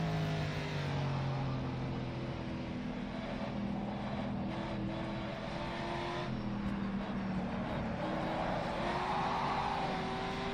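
A rally car engine in a video game revs hard and steadily under throttle throughout, loud and continuous, with rising and falling harmonic tones and a constant noisy roar on a drive through Irish countryside.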